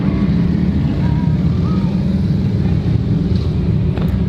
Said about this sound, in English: There's motorcycles everywhere right now.